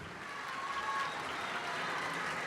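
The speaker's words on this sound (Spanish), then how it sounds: "le ruego de manera respetuosa un aplauso para nuestro presidente del Comité Ejecutivo Nacional, doctor César Camacho" Faint, distant applause at a political party conference for the national committee president, an even wash of clapping with no clear individual claps.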